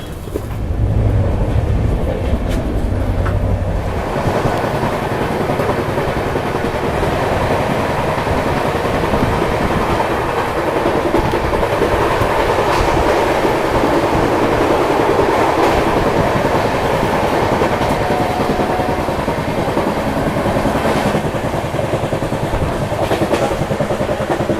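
The Mumbai to Howrah Duronto Express of Indian Railways running at speed on the rails, a loud continuous rumble and rattle with rhythmic wheel clatter, heard from inside the train.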